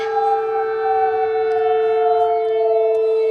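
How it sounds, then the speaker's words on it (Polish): A new-type civil defense siren wails steadily and loudly, a sustained multi-tone drone holding its pitch with a slight downward drift, no voices. "Nowa syrena ponoć teraz ma tak brzmić."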